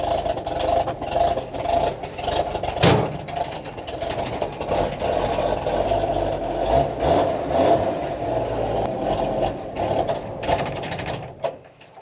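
The engine of Old Yeller, just fixed after ignition trouble and run with the choke, idles with a steady, close mechanical whir and rattle throughout, with one sharp knock early on.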